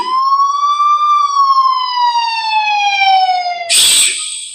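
A single ambulance siren wails steadily in a long falling tone, loud and close, then cuts off into a brief burst of noise near the end.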